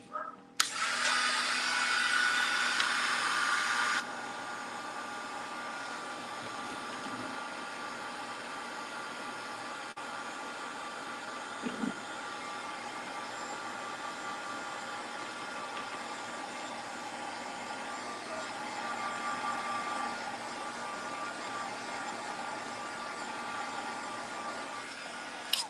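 A hair dryer blowing on wet paint on a painted gingerbread piece runs as a steady airy whoosh, louder for the first few seconds, then continuing faintly and evenly for about twenty more.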